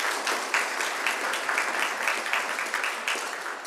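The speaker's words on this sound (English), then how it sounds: "Let's give one more round of applause to Margaret and Reverend Alan Dean." Audience applause at a lecture event on a civil rights leader, a sustained round of clapping from a seated crowd at moderate volume, fairly even throughout.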